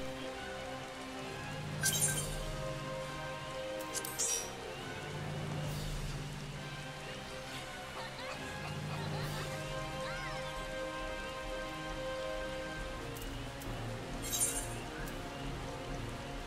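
Continuous video game rainfall in the town of Gridania pattering on surfaces, with a low ambient hum and soft background music under it, a few faint clinks now and then.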